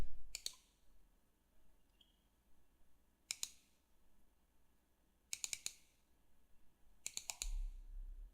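Sharp mouse clicks come in four quick clusters, single and double, spaced a second or two apart against a quiet room background as a file is selected on a Windows 7 computer.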